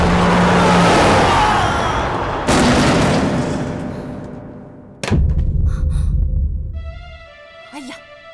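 A speeding car with failed brakes in a dramatic chase scene: loud, continuous engine roar and rushing noise, broken by a heavy thud midway and a second impact, followed by a ringing tail and a short tonal whine.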